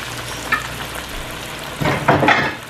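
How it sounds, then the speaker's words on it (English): Battered pickles fry in hot oil with a steady, close crackling sizzle that swells louder near the end, with no talking over it. "Y'all just frying the outside."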